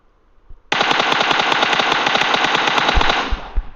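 Rapid automatic gunfire in the mobile game PUBG Mobile, a loud, dense burst of shots lasting about three seconds, followed by a couple of heavier single thuds.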